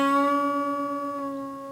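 One sustained electric guitar note bent up a full step on a lead part from a song, held and gradually fading, clean and close with no voices.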